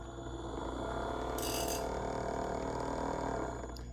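The motor of an RC scale model of the USS Monitor Civil War ironclad whirs steadily on throttle at close range, with a fine mechanical gear-like ratcheting and a brief hiss partway through.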